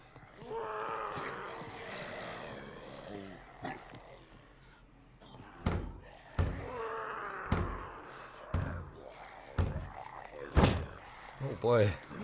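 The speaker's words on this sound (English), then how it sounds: "Oh, you're beating down the door, look, you see him." A zombie horde attacker in the survival video game SCUM beats on a door, sounding as a series of sharp, heavy thuds amid growling, roaring creature noises, with the blows growing louder and more frequent toward the end.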